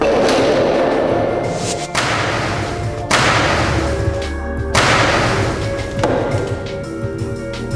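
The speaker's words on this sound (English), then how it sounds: "And a 3-inch stone hitting a pumpkin." A 3-inch hailstone strikes a pumpkin in a laboratory demonstration, giving loud, heavy thuds and cracking impacts repeated several times in close succession, with no talk.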